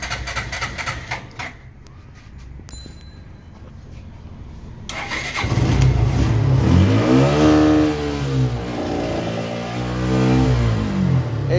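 A Suzuki SF motorcycle engine that has poor throttle pickup starts up after a quiet stretch, then idles and revs in repeated rising and falling surges, loud and close.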